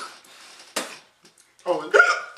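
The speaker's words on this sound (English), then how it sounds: "Now I got the hiccups." A man hiccups after drinking a little beer, sharp abrupt bursts at close range, one near the start and another near the end, with speaking between.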